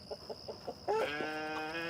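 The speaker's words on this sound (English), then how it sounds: "here's the roosters protecting the run" Chickens cluck in a short rhythmic series of soft notes, then a louder drawn-out squawk and crowing rises, close by.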